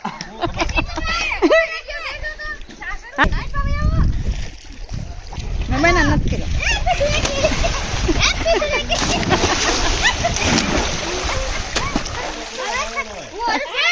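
People splash and slosh in water during a Dhuleti (Holi) celebration, loud and busy throughout, with excited voices, shouting and laughter over the churning water.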